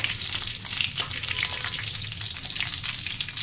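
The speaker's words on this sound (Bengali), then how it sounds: "পুরো 2-3টে শুকনো লঙ্কা, তেজপাতা, আর দিয়ে দেবো কিছুটা গোটা গরম মশলা।" Dried red chillies, bay leaves and whole garam masala spices crackle and sizzle in hot oil for Bengali chicken, a dense, close, steady frying hiss with no speech.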